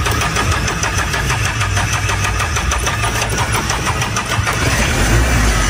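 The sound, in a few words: battered old pickup truck engine starting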